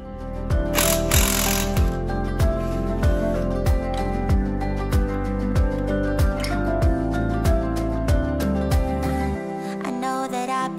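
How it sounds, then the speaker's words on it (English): Power tool loosening lug nuts on the wheels of a Chevy 3100 truck, a loud, close, rapid hammering rattle with repeated sweeping pitch bends, running steadily for about nine seconds before cutting off. "I think I'm about to start jacking on some lug nuts."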